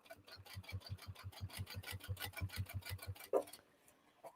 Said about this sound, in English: So I'm just going to run a second row of stitching